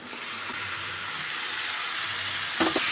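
Chicken pieces dropped into a hot pan of pepper masala gravy, giving a steady close sizzle and hiss throughout with a brief stirring clatter near the end.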